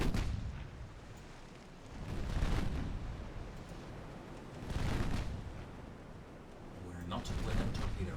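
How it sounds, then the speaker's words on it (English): Armor-piercing naval gun salvo in the game Ultimate Admiral Dreadnoughts: three heavy booming bursts spaced a few seconds apart, each a deep rolling blast with a long rumbling tail under constant low noise. "Fire an armor-piercing salvo,"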